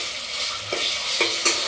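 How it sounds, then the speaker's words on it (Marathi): Ginger, garlic and chili paste drops into hot oil and sizzles steadily, with a few louder crackling bursts and the scrape of stirring in the pan. "आता यात आपण घालून घेऊयात आलं लसूण आणि मिरची यांची पेस्ट"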